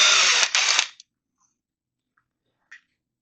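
A power tool or impact driver spins loose bolts on a Yamaha motorcycle clutch cover, one long close burst of whirring followed by a brief second buzz, then near silence with a faint metallic click.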